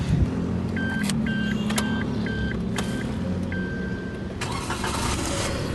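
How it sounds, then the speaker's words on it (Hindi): A 2022 Suzuki Alto VXR with its chime beeping in short repeated tones, then one longer tone, as the small car engine cranks and catches with a sharp burst near the end, heard up close from inside. "बिस्मिल्लाह करते हैं, स्टार्ट करते हैं, देखते हैं कि ये सुजुकी हमें बेसिकली अल्टो कैसे वेलकम करती है।"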